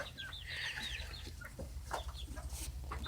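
Chickens cluck and squawk in a backyard flock beside a fence, soft rhythmic clucks mixed with sharper calls at moderate distance.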